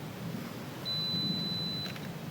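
A camera's two-second self-timer gives one steady high electronic beep lasting about a second, then a short burst of quicker beeps as it fires, faint over a quiet outdoor background.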